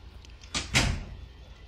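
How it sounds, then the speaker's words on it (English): A door shuts in a Persona 4 game scene, a quick two-part swish and thump, close and fairly loud, then a fading tail over low hum. "Close the door."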